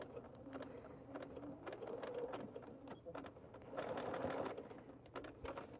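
A domestic sewing machine stitches through a duffle bag in short bursts of a few stitches at a time, a steady mechanical whir with small pauses.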